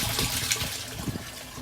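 Water overflowing from one koi pond filter barrel into the next in a DIY three-barrel filter setup, a steady close splashing rush that runs continuously with no talk.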